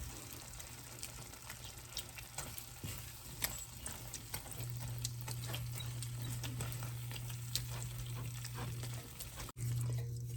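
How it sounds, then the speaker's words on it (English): Home-canned beans are mashed in a pan with the back of a spatula over a soft, steady sizzle, with repeated scraping and squishing taps close by and a low hum underneath. "And I'm going to mash them up with the back of the spatula."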